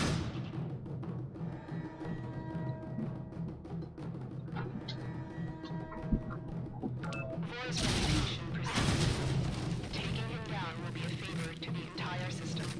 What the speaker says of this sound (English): let's open fire on this guy